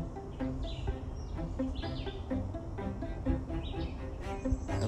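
Nest-building birds chirp and tweet repeatedly over a dense, busy background of rustling and low noise, with several short calls scattered throughout.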